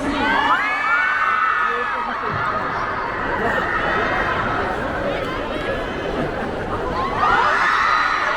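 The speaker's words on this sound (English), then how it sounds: "Yeah, I hear more screams." Fans at an anime public appearance at a Tokyo Street anniversary pavilion scream and cheer in high, sustained shrieks, a loud crowd throughout with peaks at the start and end, and people talking over it.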